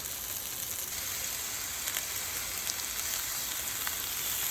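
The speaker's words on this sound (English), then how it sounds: "cook them for about 4 minutes per side until they're golden" Turkey burger patties frying in a hot pan, a steady close sizzle with crackling pops throughout, no talk.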